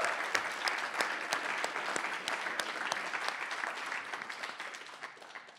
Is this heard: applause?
yes